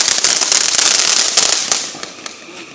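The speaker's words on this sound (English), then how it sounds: "I've been videotaping the entire fireworks display." A backyard family fireworks display with firecrackers going off, dense rapid crackling and popping bursts at close range, loud and continuous before thinning out to a few scattered cracks.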